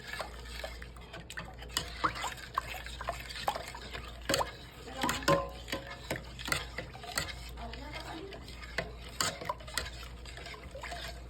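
Milk batter for hot cakes is poured through a strainer, giving soft trickling, dripping and the light clink of utensils on a bowl, with talk in the background.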